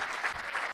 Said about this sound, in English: give them as well a big round of applause